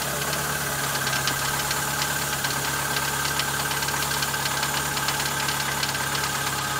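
A used jeep engine idles after a cold start, a steady, even mechanical rumble with a faint ticking knock running throughout, close and constant with no voices.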